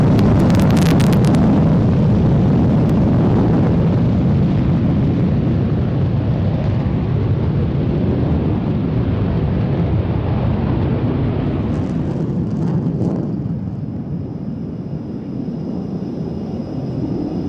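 Jet aircraft taking off at an airshow, a loud sustained roar with broadband rumble that swells early, holds steady, then thins slightly as it recedes; no talk.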